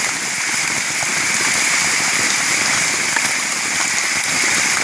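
Heavy rain pours steadily on a forest campsite at night, a dense continuous hiss of drops drumming on surfaces with no pauses, loud and close all around.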